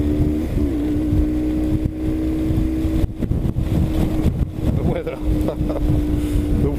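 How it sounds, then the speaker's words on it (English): Wind blowing at around 50 miles an hour on a mountainside batters the microphone with a constant, loud, low rumbling roar that carries on from start to finish. "At the moment we've got 50-mile-an-hour winds up a bloody mountain"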